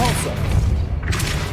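A Depulso push spell cast in Hogwarts Legacy lands as a brief, dense blast with a low rumble and a swishing burst, loud and close throughout.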